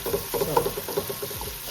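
Seasoned beef frying in a pot, a steady close sizzle with light stirring scrapes and small pops throughout, no talking.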